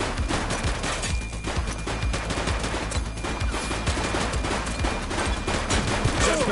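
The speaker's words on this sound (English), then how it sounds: "He's shooting!" Sustained gunfire in a video game police shootout, dense overlapping shots and bursts rattling continuously at a loud, even level with no pauses.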